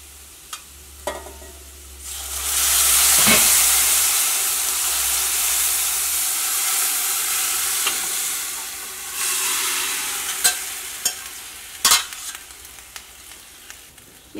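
Boiled potatoes are tipped into a hot curry pan and stir-fried, setting off a loud, close rush of sizzling steam that fades and surges again, punctuated by sharp clicks of the spoon against the pan.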